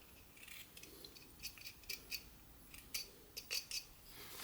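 A whittling knife carves V cuts into wood on a small gnome figure, making faint, crisp snicking cuts in irregular bursts. The cuts are close and quiet, with no talking.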